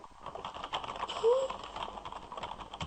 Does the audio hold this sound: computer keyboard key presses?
yes